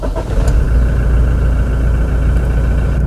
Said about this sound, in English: So right now I've just started the car and there is considerable engine noise that filters in.